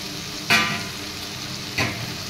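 Chicken meat fries in a pan with a constant sizzle, and two brief scraping stirs stand out above it.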